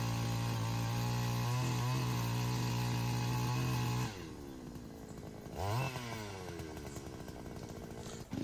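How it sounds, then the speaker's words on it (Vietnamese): A wheeled, push-frame petrol earth auger drills planting holes in hard, root-filled hillside soil of a coffee garden, its engine roaring steadily, then dropping in pitch and surging again as the bit bites. "Chủ nhà đang test khoan ở ngã tư của vườn cà phê để trồng thêm trụ tiêu."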